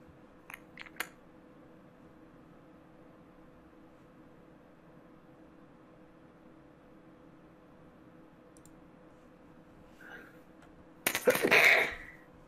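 A person sneezes indoors during a board game session, a sudden loud burst near the end after a long stretch of near silence broken only by a few small clicks.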